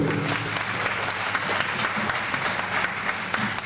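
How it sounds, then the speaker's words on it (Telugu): Audience applause at the Kurnool Utsav award ceremony, a steady, even roar of many hands clapping that holds at the same level throughout. "గట్టిగా చప్పట్లు"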